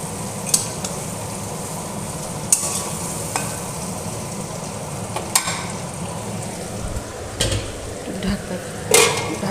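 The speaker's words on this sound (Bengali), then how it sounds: "আলুগুলো এখানে আলুগুলো একটু ভেজে নেব।" Potatoes frying in oil for an aar fish curry, a steady close sizzle with sharp scraping stirs and clinks of a utensil against the pan at irregular moments.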